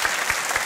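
Dense, loud audience applause on a Swedish TV bingo show set, a steady wash of many hands clapping with no gaps, brief and close.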